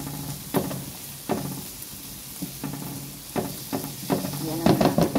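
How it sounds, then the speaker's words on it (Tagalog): Garlic sautés in a pan for a creamy cheese carbonara. A steady sizzle sits under repeated scraping stirs that come in rhythmic strokes about every second, growing busier toward the end. "Irisama ko na rin bawang"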